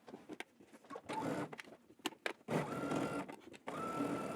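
A sewing machine understitches the facing on a pair of pants, running in several short close bursts of needle chatter separated by brief pauses.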